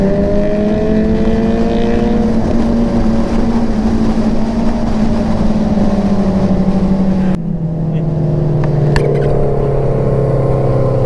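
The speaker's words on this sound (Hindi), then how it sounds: "ये गई तारन भाई की बाइक, केजे भाई की बाइक" Several motorcycles on a group ride pass close by, engines loud and droning, with pitch rising and falling as they rev and one sharp shift in tone as a bike goes past.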